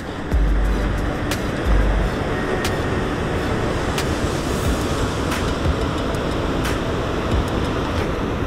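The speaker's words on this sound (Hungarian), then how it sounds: "csodálatos ez a kis patak. Sőt, nem is olyan kis patak ez." A fairly large mountain stream on a hiking trail in the Retezat mountains rushes with a steady, dense, continuous roar, close by, with a few faint clicks over it.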